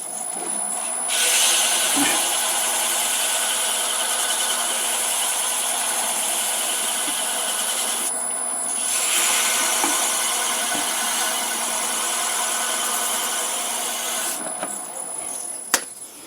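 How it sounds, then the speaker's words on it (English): Sandpaper rubbing along the grain of a segmented wooden pen, a steady close abrasive hiss that runs almost without pause, with a few brief dips and a small knock near the end. "Always sand along the grain with wood after each grip."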